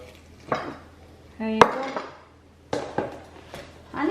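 A plate of roast chicken, lechon manok, is cut up with a few sharp clinks and scrapes of cutlery on crockery, separated by pauses, and someone speaks briefly between them.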